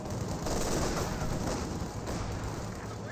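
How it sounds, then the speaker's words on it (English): Submachine gun fire in the World War II strategy game Company of Heroes 2, a dense, continuous rattle of rapid shots mixed with battlefield booms, loud and sustained throughout with no pauses. "SMG's now firing away."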